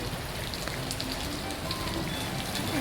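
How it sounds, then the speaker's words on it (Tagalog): Heavy typhoon rain pours steadily onto surfaces outdoors in the Philippines, a dense, constant hiss and patter that stays loud from start to finish. "Ligo tayo sa ulan, guys."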